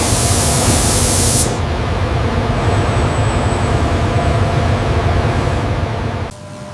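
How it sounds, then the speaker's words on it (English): Robotic arms spray paint onto a Toyota RAV4 car body on a factory line, giving a loud steady hiss that runs without a break, with a sharper burst at the start, before it drops off abruptly near the end. "Robotic arms spray multiple thin..."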